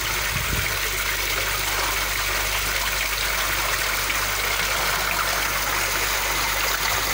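Water rushes steadily through a DIY recirculating fish farming system, a loud continuous gush and splash close by, with a brief low thump near the start and no talking.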